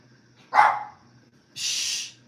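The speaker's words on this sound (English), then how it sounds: "The dogs being protective." A dog gives two sharp protective barks about a second apart, loud and close against a quiet background.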